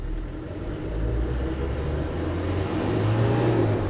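A 1998 Land Rover Defender 110 Hi Cap pickup with a 300Tdi diesel accelerates through its gears, its engine a steady, close rumble that swells as the revs build, with no talking.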